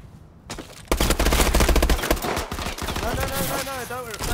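Rapid bursts of automatic gunfire from a first-person shooter, Call of Duty: Advanced Warfare, start after a brief quiet moment and rattle on loudly and continuously with dense, closely spaced shots.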